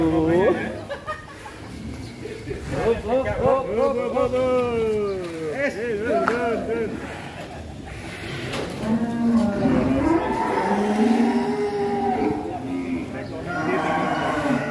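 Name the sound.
large Indonesian sacrificial cattle in barn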